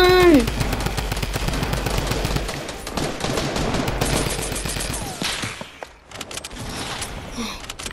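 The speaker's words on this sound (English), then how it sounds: "The Tommy gun, so it is very good." Tommy gun in the Fortnite video game firing long rapid automatic bursts, loud and continuous with game sounds mixed in and a brief pause near the end.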